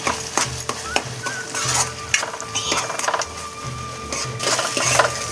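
Paneer curry mixture frying in a pan, with a spoon repeatedly scraping and stirring over a steady sizzle, clinks and knocks in an uneven rhythm, close and fairly loud with no talk.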